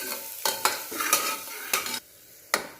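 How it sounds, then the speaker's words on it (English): Onion frying in a pan for biryani, a steady close sizzle broken by several sharp spoon strokes stirring against the pan, with a brief quiet gap before one last scrape. "I just added the onion and wait until it turns a bit brown"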